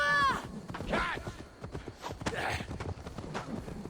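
Horse hooves clip-clop at a walking pace in Assassin's Creed Valhalla, a steady run of soft, close hoofbeats under game ambience with a brief tonal chime at the start.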